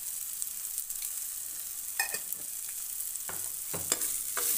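Green chillies frying in hot oil for a radish curry, a light steady sizzle with scattered crackles and stirring scrapes, close and fairly quiet, no talk.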